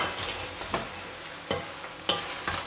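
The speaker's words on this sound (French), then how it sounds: "je vais mélanger tout ça" A spoon stirring ratatouille vegetables in a pan, a few light scraping strokes and soft clicks spaced about half a second apart over a faint background hiss, close and quiet.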